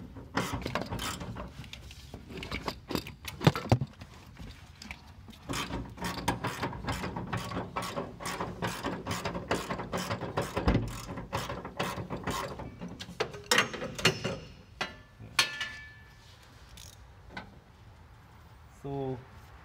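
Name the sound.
ratchet with 13 mm socket removing car hood bolt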